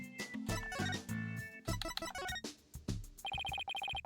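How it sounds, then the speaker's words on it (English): A phone rings in the Ace Attorney video game, a bright electronic ringtone in repeated bursts over game music, moderately loud and alone without voices. "Who's that phone call from?"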